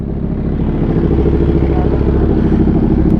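A motorcycle fitted with a loud drip exhaust rumbles steadily at close range, a constant low, throbbing engine note with rattly texture throughout and no break.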